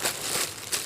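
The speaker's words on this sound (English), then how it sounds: "Here we've got a typical" Brief plastic crinkling close by, a few soft rustling bursts as a 33-gallon plastic trash bag is handled.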